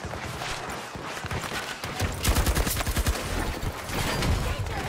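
Rapid bursts of RPT-31 light machine gun fire in Battlefield 2042, loud and close, with dense overlapping shots and battle noise throughout, the firing growing heavier partway through.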